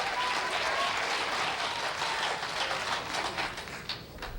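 A studio audience on a 1970s late-night talk show claps in modest, even applause that thins and fades toward the end, with no talk over it.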